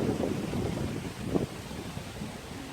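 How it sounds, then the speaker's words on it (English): Gusty wind roars in a heavy wind storm as trees blow, a steady broadband rush across the whole clip with one sharper gust surging briefly midway, no talking. "it's starting to get a little windy, and so you can see the trees really starting to blow"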